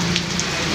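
Steady rain pattering on a surface during hot sunshine, a continuous hiss with a low hum underneath and no voices.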